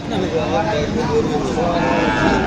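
A young Friesian heifer calf moos at a busy livestock market, its calls mixed into loud, steady crowd chatter and voices of people talking nearby.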